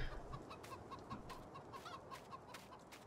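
Chickens cluck in the farming video game Maypole Farm, a steady run of soft, repeated clucks over a busy, noisy background with no talking.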